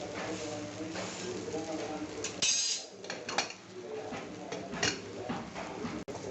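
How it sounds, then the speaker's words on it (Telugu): Metal lid lifted off a pot of freshly cooked tomato rice in a home kitchen, a brief clatter of metal against metal amid soft background noise. "రైస్ మూత ఓపెన్ చేసి తీసుకుందాం."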